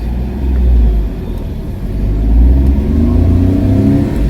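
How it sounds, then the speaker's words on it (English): A Honda Acty van driving off around the block, heard as a loud, close, low engine drone that swells twice as it accelerates, with no talking. "I'm gonna drive around the block real quick"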